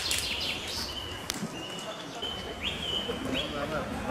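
Birds in the Belgrad Forest near Istanbul, with thin, high chirps and a few repeated whistled calls over a soft, quiet background.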